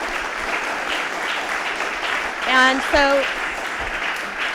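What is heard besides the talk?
audience applauding the accelerator founders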